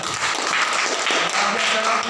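A classroom of students claps for a group after its presentation, a dense steady patter of many hands filling the moment with no talk over it.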